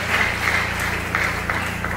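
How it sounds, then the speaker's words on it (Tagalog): A church congregation claps together in a dense, continuous wash of applause, loud and close, with no pauses. "Lahat po na nagkakaisa, na parang magkakapatid, ay pumalakpak sa ating pinakamamahal na Panginoon."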